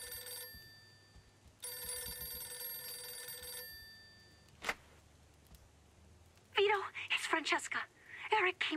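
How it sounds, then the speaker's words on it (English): An old-fashioned telephone bell rings inside a house in Mafia 2, two long rattling bursts with a pause between them, followed by a sharp click and then people talking. "I get back to the house and the phone ringing."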